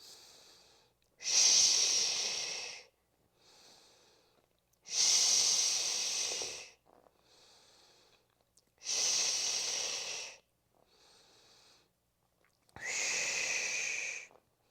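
Steady breathing during a core and glute workout: four long, loud, hissing exhales alternating with quieter inhales in an even rhythm, close and clear.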